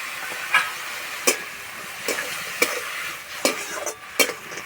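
Cabbage filling sizzles in a pan as a spoon stirs and scrapes it, giving sharp clacks roughly every second over a steady frying hiss.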